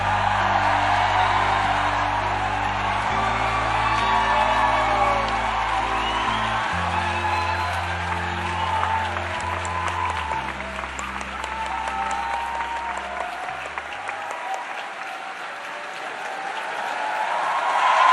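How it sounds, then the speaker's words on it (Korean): A large indoor audience applauds and cheers to welcome a speaker, a loud sustained wave of clapping with occasional whoops, heard over an organ-like musical backing that fades out near the end. "이채 씨를 큰 박수로 환영해 주십시오"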